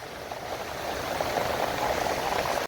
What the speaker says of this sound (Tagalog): nag-umpisa na yung ulan. Wala pang hangin.